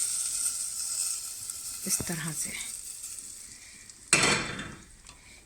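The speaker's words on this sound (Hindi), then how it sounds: "ये पूरा तड़का हम लोग दाल गोश्त के ऊपर लगा देंगे" Hot oil tempering with kasuri methi and red chili powder hits a pot of dal gosht in a sudden loud burst of sizzle near the end. It follows a man's speech and light clinks of utensils, then fades.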